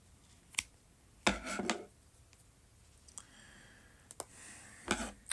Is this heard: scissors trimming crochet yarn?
yes